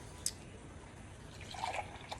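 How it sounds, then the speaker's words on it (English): Milk poured from a container into a measuring cup while making homemade mac and cheese, a faint soft liquid trickle with a small drip early on, quiet kitchen background and no talking. "Fill this up with milk."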